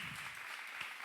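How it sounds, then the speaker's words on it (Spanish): A church congregation claps as an offering to the Lord, making a soft, distant wash of steady applause with no voices over it. "Dele una ofrenda de palmas al Señor."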